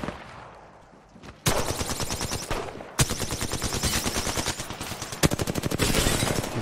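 Rapid automatic gunfire from the video game Apex Legends, loud and close, in dense bursts that start after a quieter lead-in, pause briefly, then continue with a fast stuttering rhythm near the end.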